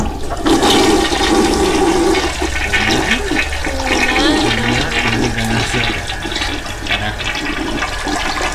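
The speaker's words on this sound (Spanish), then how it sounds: "Vas a descargar en los inodoros." Toilets flush in the video game Pesadelo, a loud, close rush and gurgle of draining water lasting several seconds, with no speech over it.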